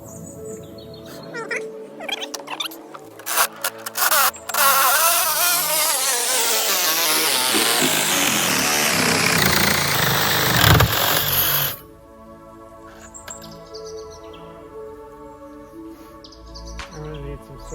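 A reciprocating saw cuts through a metal rod for a portable rabbit tractor, a loud continuous buzzing rasp that rises in pitch for several seconds and then stops abruptly, leaving quieter background.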